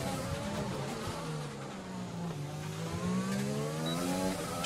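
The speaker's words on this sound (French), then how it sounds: "On est parti pour ce premier tour. Avec cette Mercedes tout améliorée." An upgraded Mercedes Formula 1 car in F1 2020 races a lap, its high engine whine rising and falling through the gears as it speeds along, with tire noise and no talking.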